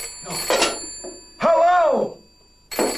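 A telephone rings in a comedy sketch set in a dairy office, with bursts of bright ringing at the start and end and a voice sounding in between.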